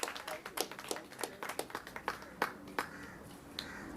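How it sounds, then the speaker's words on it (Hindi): Scattered hand claps from a small crowd at a birthday celebration in honour of a journalist, faint and somewhat distant, rising in uneven bursts over a quiet room. "जोरदार तालियों के साथ।"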